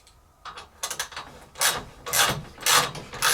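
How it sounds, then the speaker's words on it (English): A socket ratchet loosens a bolt on a Horizon treadmill during walk belt installation, giving several close, rasping clicking strokes in irregular bursts that grow louder as they go, with no speech. "I'm going to turn it a few times with my socket"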